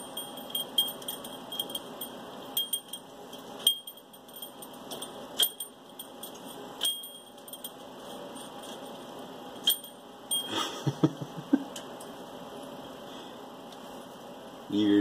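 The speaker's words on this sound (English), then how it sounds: "You having fun with your bell?" A pet bird plays with a bell toy, producing scattered light metallic jingles and taps at irregular intervals against a steady background hiss, with a brief cluster of louder rattles near the end.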